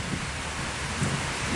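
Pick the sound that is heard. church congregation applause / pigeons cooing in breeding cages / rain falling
rain falling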